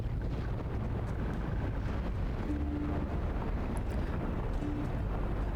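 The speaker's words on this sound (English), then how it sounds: "I think the fireworks have started." Fireworks booming in the cozy fantasy game Tavern Talk, a continuous low rumbling roar of distant bursts filling the scene steadily from start to finish.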